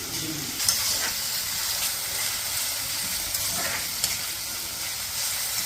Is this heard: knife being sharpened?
no